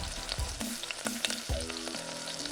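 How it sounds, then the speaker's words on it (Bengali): Cornflour slurry, soy sauce and tomato sauce being stirred into frying onions for chili chicken, a close, busy sizzle with quick scraping strokes and short clatters of a spoon in the pan, no talking. "এরপর আমাদের টমেটো সস সয়া সস ও চিনির মিশ্রণটি দিয়ে দিন"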